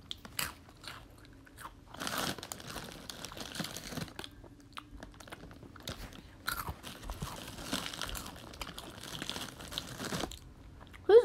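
Close, crunchy chewing and biting in an eating ASMR setting, with repeated crisp crunches and crinkly bursts coming in irregular clusters, plus brief quieter gaps between bites.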